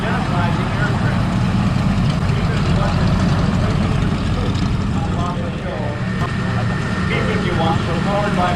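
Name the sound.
P-51 Mustang aircraft engine passing at air show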